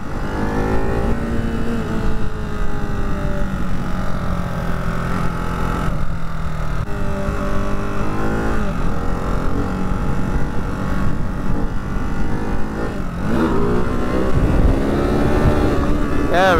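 A Ducati Hypermotard 698 Mono single-cylinder motorcycle roars close up during wheelies, its engine rising and falling through revs under steady wind rush.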